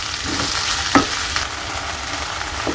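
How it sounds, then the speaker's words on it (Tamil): Ginger, onion and tomato sauté in a kadai, a continuous bright sizzle with a sharp stirring scrape or clink near the middle, close and steady. "இது சாஃப்ட் வர வரைக்கும் நல்லா வதக்கிக்கலாம்."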